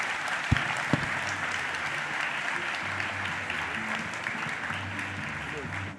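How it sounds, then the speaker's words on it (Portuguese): An audience applauds a speaker, Rodrigo Maia, at a Brazilian business event: steady, dense clapping from a sizeable crowd that lasts throughout, with a few sharper nearby claps early on. "Uma salva de palmas do presidente Rodrigo Maia."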